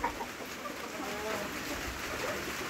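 Chickens cluck softly in a coop on a farm, scattered short calls over steady outdoor background noise.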